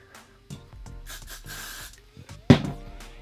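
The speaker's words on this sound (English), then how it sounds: "And then I'm just gonna hairspray that in place." Hairspray is sprayed to set side-swept teased hair in one short, sharp hissing burst near the end, following quieter rustling and handling sounds.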